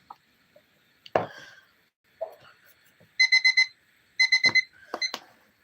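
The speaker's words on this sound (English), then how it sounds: "Now, your timer went off." Electronic timer alarm going off in a room during a mediumship reading session, sounding two bursts of rapid bright beeping followed by a shorter chirp, with scattered soft voices and noises before it.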